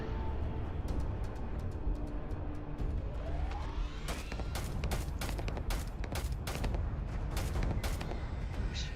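Rapid video game gunfire with bullets flying, dense bursts of sharp shots over a constant loud background of game noise, with no speech.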